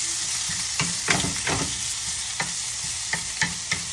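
Shallot and cubes of low-sodium ham fry in a pan with a constant hiss, punctuated by scattered utensil scrapes and soft clicks as the pieces are stirred; no voices.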